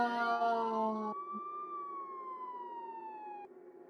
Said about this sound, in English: Sirens a bit loud?